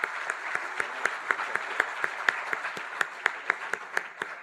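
An audience welcomes Pandit Hridaynath Mangeshkar with applause: a mass of clapping with sharp, distinct nearby claps standing out rhythmically over the steady crowd.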